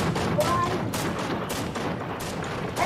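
Rapid bursts of gunfire in the video game Fortnite, loud and near, in repeated sharp volleys about every half second, with faint voices under it.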